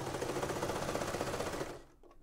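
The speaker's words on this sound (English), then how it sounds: "So I'm just sewing on the second collar." A domestic sewing machine stitches a second collar onto a classic blouse, a steady rapid mechanical chatter running close and even for nearly two seconds before it stops abruptly, leaving a quiet tail.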